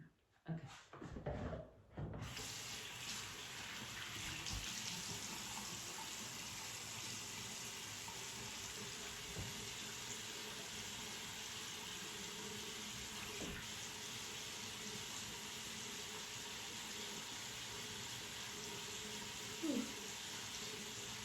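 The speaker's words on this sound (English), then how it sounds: "Rinsing it off." Water running from a tap while skincare product is rinsed off at a sink, a steady close hiss lasting about twenty seconds after a few brief knocks at the start.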